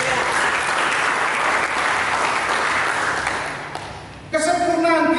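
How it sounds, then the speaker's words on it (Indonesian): A church congregation claps together in sustained, even applause for about four seconds, which fades and then gives way to a voice speaking over amplified sound. "Berikan tepuk tangan bagi Yesus."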